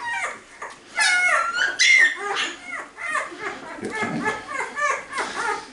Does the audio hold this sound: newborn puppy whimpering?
yes